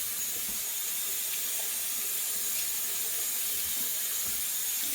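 Tap water runs steadily at a sink while a Thanksgiving turkey is rinsed, a constant hiss-like spray with no voices.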